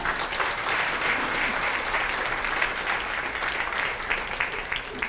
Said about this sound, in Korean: 뜨거운 박수로 맞아주십시오